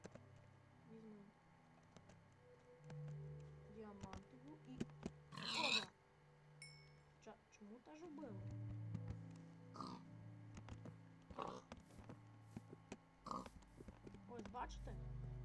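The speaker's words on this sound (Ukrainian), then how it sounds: "давайте ще раз я вам покажу заспавню свинку" Minecraft pig oinking after being spawned, short grunts scattered through the game's background sounds while someone talks throughout.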